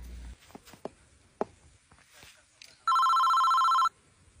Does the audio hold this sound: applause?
no